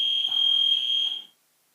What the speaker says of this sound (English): Hope that's not a fire alarm.